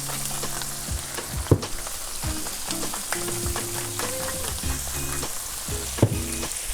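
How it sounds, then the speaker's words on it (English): Asparagus sizzles in melting butter in a hot pan, a steady close frying crackle with soft stirring scrapes and a couple of clinks, no voices. "we're gonna put our asparagus side inside the butter and get it cooking"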